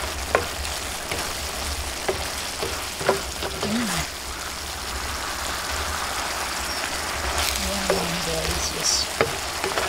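Chives and spring onion leaves stir-fry in a pan with a steady, moderate sizzle, broken by occasional scrapes and taps of a utensil stirring them.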